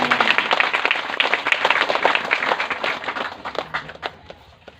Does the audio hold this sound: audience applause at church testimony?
yes